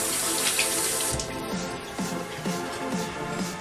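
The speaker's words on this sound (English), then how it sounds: "let me wash my hands." A kitchen tap runs steadily while hands are washed under it, a continuous close hiss of water with splashing changes as the flow hits the sink and hands.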